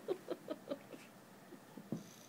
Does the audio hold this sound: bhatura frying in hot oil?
no